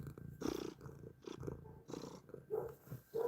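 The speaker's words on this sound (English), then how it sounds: "He's a purr machine." A domestic cat purrs up close in a steady, rumbling rhythm, with the loudness rising and falling in pulses. No one speaks.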